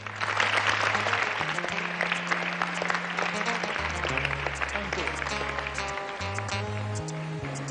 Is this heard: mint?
no